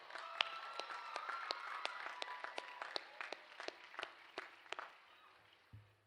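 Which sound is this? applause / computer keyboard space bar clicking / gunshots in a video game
applause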